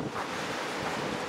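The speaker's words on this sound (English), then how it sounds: "it's about 70-mile-an-hour winds, and I'm sure it's pretty close to the same out here" Strong outdoor wind of around seventy miles an hour roars steadily against the microphone, a continuous rushing buffet with no pauses, fairly loud and alone.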